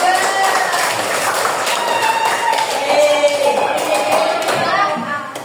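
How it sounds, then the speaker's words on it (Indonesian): Classroom group of students clapping in a lesson, brisk rapid applause continuing steadily at close range, with some voices mixed in under the claps. "kelompok 1 silakan beri tepuk tangan untuk jawaban nomor 2"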